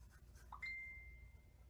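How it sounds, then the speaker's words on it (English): A phone notification chimes once, a faint, clear electronic tone that rings out and fades over a second, preceded by a few soft blips in a quiet room. "what is that? My phone."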